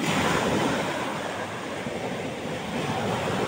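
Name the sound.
strong sea waves and wind around a small fishing boat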